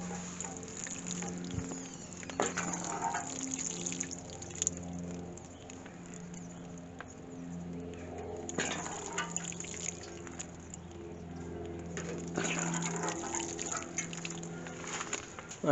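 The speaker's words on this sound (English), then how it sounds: "Okay, so just water them in." Water trickles and drips softly into pots of rosemary cuttings, quiet intermittent splashes against a low steady hum.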